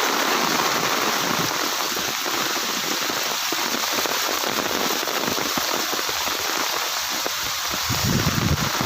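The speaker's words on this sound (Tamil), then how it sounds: "சோன்னு சவுண்டு கேட்குறது எல்லாமே மழை சவுண்டு தான்" Heavy rain pours steadily and loudly on open grazing land where cattle are being herded, a dense continuous hiss with scattered drop impacts and no talking.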